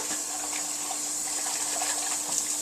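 Cold water runs steadily from a kitchen tap for cooking, a continuous close gushing hiss with a faint hum underneath and no talking.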